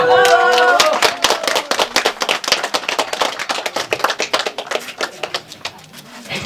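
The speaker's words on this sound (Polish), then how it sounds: "Wielkie brawa" A village audience gathered in a new community hall claps enthusiastically; a voice speaks briefly before dense, close applause fills the room, then thins into scattered individual claps.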